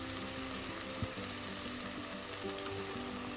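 Turmeric, coriander and black pepper powder frying in a pan for a Kerala-style chicken mappas curry, a faint steady sizzle with an occasional light stir or tap, close by and without talk.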